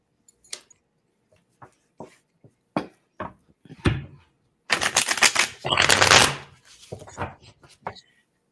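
Crisp bursts of playing cards being shuffled, a few short riffles and then longer riffling runs, close and fairly loud.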